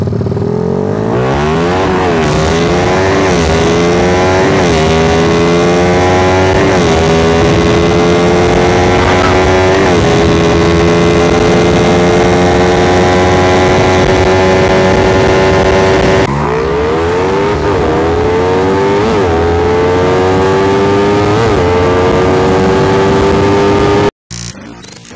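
A modified Yamaha Mio scooter with a spacer fitted revs hard and loud up close, its engine whine climbing and dropping through repeated throttle blips before cutting off abruptly at the end.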